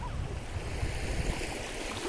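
Continuous wash of surf breaking and rolling on La Cinta beach in Sardinia, with some wind rumble mixed in, steady throughout.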